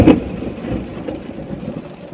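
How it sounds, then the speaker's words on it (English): Thunder from a storm with hail, heard while travelling: a loud low crack at the start rolls into a deep rumble that slowly fades over a couple of seconds. "that was scary thunder"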